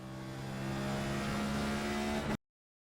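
Next Gen stock race car in iRacing at Richmond Raceway, a steady loud engine drone holding and building under throttle for over two seconds before cutting off abruptly, no voices.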